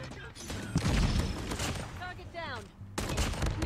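Rapid .50 GS pistol shots in Call of Duty Mobile ring out in loud, dense bursts, mixed with other game effects and a break near the end, while someone talks over the action.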